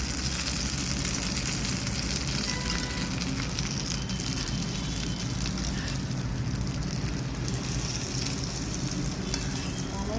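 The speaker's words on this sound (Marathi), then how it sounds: "साधारण उदाची डाळ लाल झाली ही फोडणी आपण दोन्ही चटणींवरती अर्धी अर्धी करून टाकणार आहोत" Hot urad dal tempering poured over chutneys, giving a loud, steady crackling sizzle that fills the whole stretch without letup.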